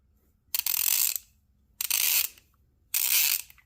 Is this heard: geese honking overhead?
no